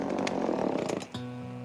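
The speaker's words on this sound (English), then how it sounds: "playing around with the chainsaw" An old chainsaw sputters and revs raggedly while someone tries and fails to get it running, then drops to a rough, uneven idle-like drone; loud and close, with no talking.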